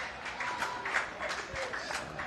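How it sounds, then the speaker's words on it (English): From a lawn bowls match next door comes a crowd's cheering and clapping. It is muffled and distant, a steady patter of applause running through the whole stretch. "big cheer next door"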